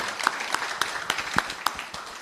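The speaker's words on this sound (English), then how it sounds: "I want a big round of applause for all our panel members" A sparse audience claps for the panel members at an afternoon session of Curaçao Export Week at the Central Bank. Distinct individual claps come in a loose, steady rhythm, moderately close.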